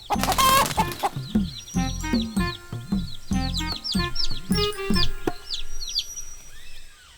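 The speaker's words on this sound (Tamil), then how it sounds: "இங்க ஒரு கோழி பண்ணையே இருக்குது." Cartoon chickens on a poultry farm cluck and squawk in quick, busy bursts, a loud opening cry followed by rhythmic overlapping clucks and chirps that thin out toward the end, with no talking.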